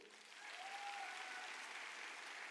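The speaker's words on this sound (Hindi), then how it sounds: "जोरदार तालियां इन लोगों के लिए होनी चाहिए।" An audience at a network marketing training event breaks into loud sustained applause, a thick continuous roar of clapping that swells within the first half second and stays strong to the end.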